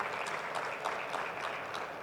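An audience at a business expo forum in Botswana claps, a fairly quiet, steady patter of many hands with a loose rhythm of slightly stronger claps throughout the short stretch.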